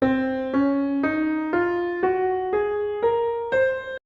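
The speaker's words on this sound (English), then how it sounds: "And it's exactly the scale used throughout this ostinato." A repeating ostinato in the Locrian mode from Pokémon battle music plays eight even notes, each step rising in pitch, with a bright sustained tone and a dark, unsettled character.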